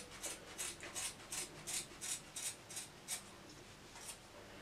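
Scissors snip through crochet braids close to the scalp, about ten quick, crisp cuts in a steady rhythm, faint and close with no talking.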